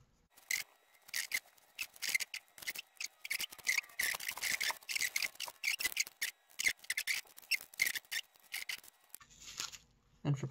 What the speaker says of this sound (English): I like to get a tiny little screwdriver, flathead of course, just kind of rub it back and forth